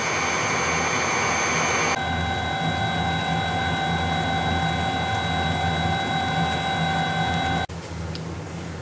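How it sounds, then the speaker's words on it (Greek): An electric mixer whips cream at high speed to make butter, a loud, steady, close motor whine with a sharp pitch shift early on, then cutting off abruptly near the end. "Συνεχίζουμε να χτυπάμε σε μεγάλη ταχύτητα την κρέμα γάλακτος, γύρω στα 5 με 6 λεπτά"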